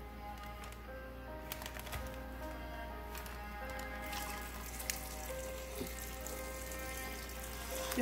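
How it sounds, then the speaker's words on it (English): Soft, steady trickle of water poured into a cooking pot, with faint clinks and light kitchen background noise. "we'll just add water."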